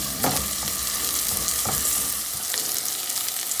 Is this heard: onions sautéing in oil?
yes